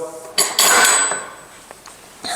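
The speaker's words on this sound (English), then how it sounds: "we got our regular pipe clamps here ready to go" Metal pipe clamps for woodworking are handled in a few sharp clanks and rattles, with a bright ringing hit followed by smaller knocks and a final clatter, close and fairly loud.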